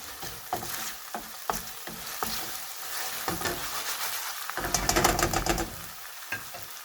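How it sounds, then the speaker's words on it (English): Curry sauce sizzles and spits in a hot pan, with scraping stirs and a louder burst of frying partway through. "A little more frying."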